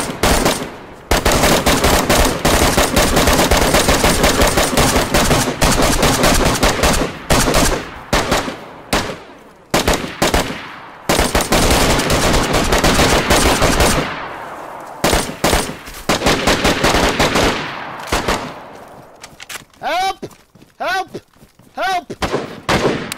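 Sustained, loud automatic gunfire from a video game, with rapid rattling bursts that keep up for long stretches, break off briefly, then resume, with voices talking near the end.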